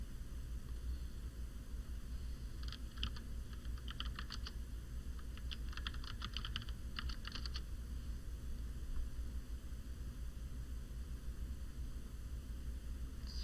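Bursts of typing on a computer keyboard, clusters of soft rapid keystrokes over a steady hum of background noise, with no speech.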